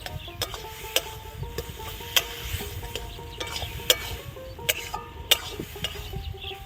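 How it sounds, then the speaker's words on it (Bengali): Prawns with taro leaves are stirred in a pan, sharp spatula clicks and scrapes striking at an irregular pace over a soft low sizzle, close and clear, with no talking. "চিংড়ি মাছটা দিয়েও একটু নাড়াচাড়া করে নেব দু তিন মিনিট"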